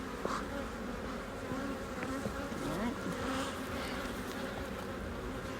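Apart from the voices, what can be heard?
honeybees buzzing around hive frame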